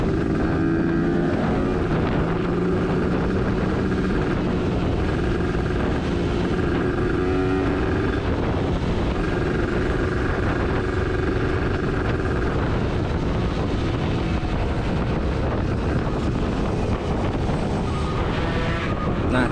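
A group of two-stroke Kawasaki Ninja motorcycles rev on half clutch while riding, a continuous loud engine drone mixed with heavy wind buffeting across the whole stretch.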